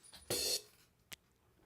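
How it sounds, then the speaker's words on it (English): A single bright, hissy open hi-hat splash from an electronic drum kit, played with the left foot, sounds briefly, followed by a faint short tick; quiet and otherwise near silent. "It's like an open cymbal or open hi-hat sound."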